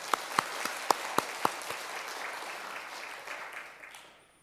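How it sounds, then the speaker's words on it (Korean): A church congregation applauds to welcome the preacher at a Sunday worship service: a few loud, sharp claps open, then a steady spread of clapping that swells slightly and fades out. "우리 한번 환영하는 의미에서 박수로 한번 환영하면 좋겠습니다."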